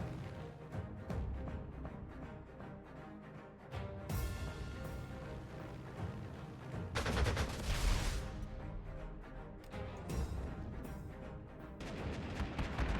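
An anti-aircraft gun fires on a vehicle in the strategy game Panzer Corps 2, heard as moderate bursts of gunfire and booms over a steady game soundscape, strongest around the middle and near the end.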